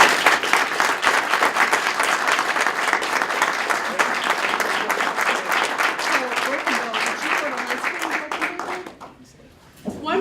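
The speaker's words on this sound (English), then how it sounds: "So can we give them one more round of applause?" A campus audience at a college talk-series event claps for the speakers, sustained applause that runs for about nine seconds before fading out abruptly near the end.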